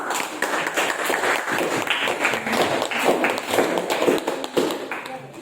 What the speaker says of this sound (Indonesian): Dari tepuk tangan